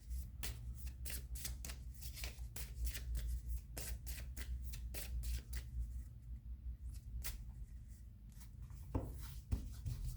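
Tarot cards shuffled by hand for a reading, with a steady run of crisp riffling and slapping sounds close up and quiet, and no talk.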